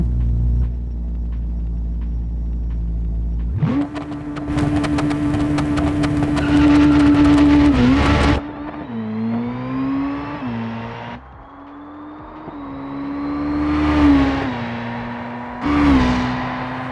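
A car in the BeamNG driving game runs a performance test. It idles low, then accelerates hard with rising revs and shifts, sounds strained through a wobbly stretch, and finishes with more bursts of revving. It is loud and close throughout.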